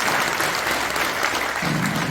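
A roomful of people applauds steadily and loudly at a Christian prayer breakfast in a National Assembly members' office building conference room, the dense clapping continuing throughout with a low murmur near the end.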